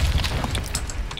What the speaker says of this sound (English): Behind you, man. Grenade.